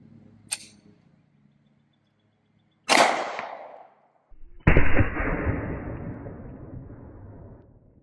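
A 9mm Federal Punch round fired into a watermelon: a faint click, then a sharp loud gunshot crack, and moments later a heavy burst as the melon blows apart, decaying over several seconds.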